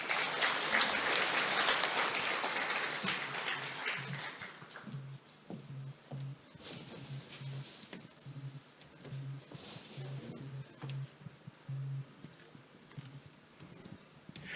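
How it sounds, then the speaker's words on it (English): A conference audience at an international business event applauds loudly after a keynote speech, a dense wash of clapping that fades over a few seconds, followed by a quieter stretch with scattered claps and a voice speaking. "ladies and gentlemen, a big round of applause."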